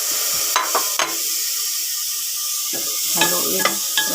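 Garlic frying in a pan with a steady broadband sizzle, punctuated by a few short scraping stirs near the start and a cluster of clinks and scrapes toward the end; no talking.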